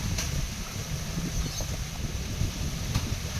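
Wind blows outdoors in a steady, rumbling rush with low buffeting gusts against the microphone, fairly loud and continuous with no speech.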